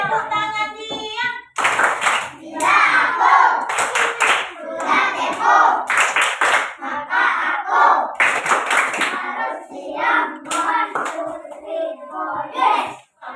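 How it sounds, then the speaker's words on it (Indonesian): A classroom applauds a student group in several short bursts of clapping, with voices talking between and over them. "Tepuk tangan dia."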